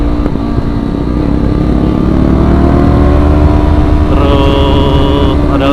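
Motorcycles on an Indonesian Sunday morning group ride, including a Yamaha Bison, rumble with a loud, steady engine drone close by, rising slightly as the rider accelerates, with wind noise and no talking.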